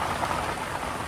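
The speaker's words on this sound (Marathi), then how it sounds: "पाऊस पडतं त्यामुळे आम्ही इथं बसल्या" Steady, dense rain falling and pattering on surfaces nearby, a continuous loud wash with no breaks.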